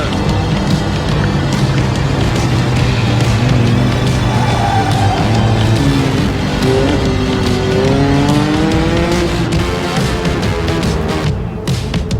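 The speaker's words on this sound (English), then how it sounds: "Oh, is that a V8?" V8 race car engine at Sonoma Raceway during a Mazda Miata gathering, a loud, close, sustained engine roar with rising and falling pitch as it revs, no talking over it.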